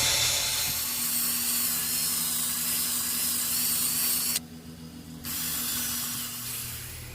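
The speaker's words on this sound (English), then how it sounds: "So get this wire brush and my drill. That's the best way to take care of that." A loud, harsh whirring scrub of a spinning wire brush driven by a drill, removing rust from a metal stem, stopping briefly midway before starting again.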